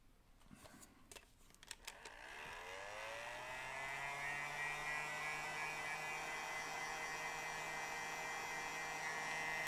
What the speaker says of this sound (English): I'll get the heat gun in.